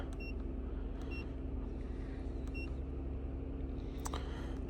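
A Toyota Camry with an oxygen sensor fault code P0057 idles with a steady low engine rumble and hum, close by, while a few faint electronic beeps chirp over it; no talking.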